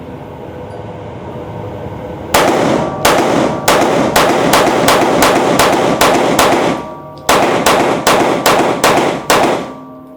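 Shots from a micro compact comp pistol ring out at an outdoor range: sharp, loud reports in a fast string of about eight, then a short pause and a second rapid string of five or six, each with a short echoing tail.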